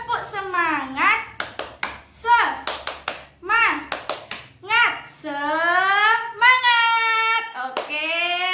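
Children clap in a quick rhythmic class chant pattern, bursts of sharp hand claps alternating with their sung, chanted voices, loud and close in a classroom.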